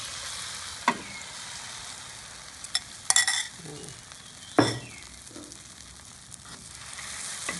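Egg frying in a hot pan for a shrimp curry stir-fry, a faint steady sizzle broken by a few sharp scrapes and clinks of a utensil against the pan.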